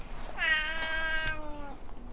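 A single drawn-out meow from Graham, a newly arrived house cat, close by and fairly loud, rising then sliding down over about a second and a half, with no talking.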